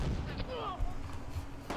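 Gunfire in the Close Combat Gateway to Caen multiplayer war game, muffled shots and battle noise layered under a steady rumble of background sound.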